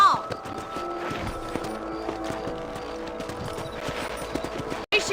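Horses gallop in the Western video game Red Dead Redemption, a steady run of clip-clop hoofbeats carrying on continuously under game ambience, with a short dropout near the end.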